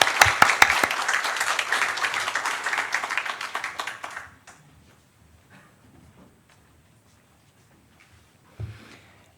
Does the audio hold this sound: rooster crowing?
no